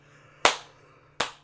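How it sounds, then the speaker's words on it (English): Two slow, soft hand claps spaced nearly a second apart, each a single crisp smack fading quickly in a quiet room, made in a sleepy way during a preschool music session. "You can clap your hands in a sleepy way."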